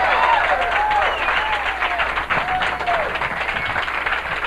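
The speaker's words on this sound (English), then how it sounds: "Let's have a big round of applause." An audience applauds a comedy act at a live comedy show, the clapping dense and steady throughout with crowd cheering and whoops mixed in.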